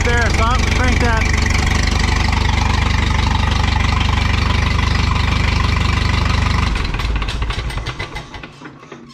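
A Minneapolis Moline tractor engine, just cranked, idles loud and close with a heavy, rumbling knock, then slows and fades away toward the end.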